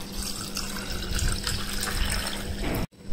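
Water pours from a tap or jug into a glass while nannari sherbet is mixed, a steady close splashing stream that runs nearly three seconds before cutting off abruptly.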